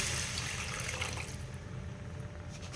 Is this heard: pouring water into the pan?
yes